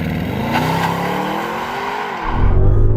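An Audi RS Q8 with an 8-speed automatic launches hard under launch control, its engine roaring and rising in pitch through a gear, then a deep loud surge near the end, close and with no talk over it.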